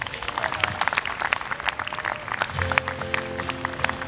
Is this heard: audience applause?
yes